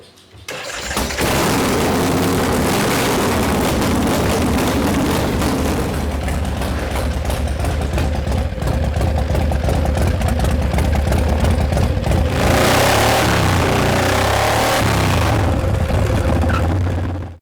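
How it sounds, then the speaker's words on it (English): A custom-built motorcycle starts and then roars continuously on its first test run, loud and close, with the throttle swelling toward the end. It comes from a biker build-off between two builders. "Larry takes Daddy O out for its first test run."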